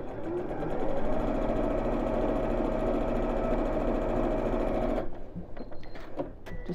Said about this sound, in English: I'm just going to move that fabric over and sew it.